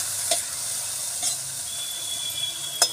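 Moth beans (matki) roasting in oil in a pan, a steady hissing sizzle close by with three spaced scrapes of a stirring spoon, no talking.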